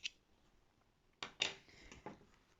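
Scissors snip crochet yarn at the end of a row on an amigurumi sheep, a faint lone click followed a second later by a few quick close cuts in a quiet room.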